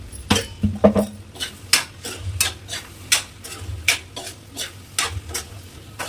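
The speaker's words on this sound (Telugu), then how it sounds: "బాగా కలపాలి." Mutton and small prawn curry being stirred in a pan, with a spoon repeatedly scraping and clinking against the metal in a steady rhythm of close, distinct strokes over a faint sizzle.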